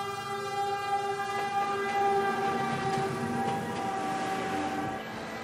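A Manila rail line train sounds continuously, a loud sustained horn with many stacked tones over the rolling rumble of the cars, holding steady for several seconds before dropping slightly at the end.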